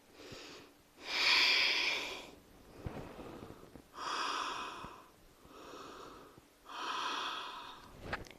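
Slow, deep breaths in and out during a yoga child's pose, heard close up, four or five long airy breaths with short pauses between them.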